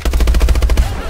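Loud, rapid automatic gunfire in Call of Duty Advanced Warfare, a fast steady string of close shots that fades out at the end.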